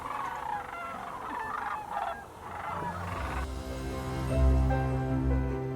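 Sandhill cranes calling in a Michigan field, a chorus of rattling, honking cries layered over one another, loud and fairly close, shifting into deeper, steadier calls toward the end with no talk.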